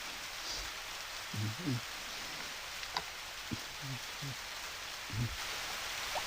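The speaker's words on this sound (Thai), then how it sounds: "ฝนตกแล้วสองวันแล้วเหรอ" Steady soft rain hiss fills the scene in the PS1 video game Harvest Moon: Back to Nature, with a few brief low thuds and muffled sounds scattered through it.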